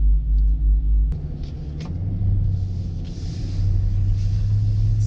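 A 2019 Dodge Durango SRT on a track, its engine a deep low rumble that steps down after a brief thump and then settles into a steady, slowly swelling drone.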